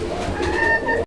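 A pair of Raj Golla pigeons coo close by, one brief low throaty call alone before it cuts off.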